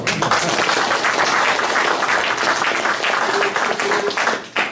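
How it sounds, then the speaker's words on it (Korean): Loud, dense applause from an audience at a forum in Goseong fills the room without a break, fading slightly only at the very end. "박수 한번 주시죠"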